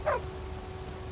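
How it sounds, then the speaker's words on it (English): A single short bark from a dog companion in Skyrim, quick and moderately close, followed by a quiet ambient hum with a steady tone. "Did I just get a robot dog?"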